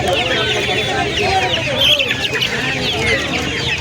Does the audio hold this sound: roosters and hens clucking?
yes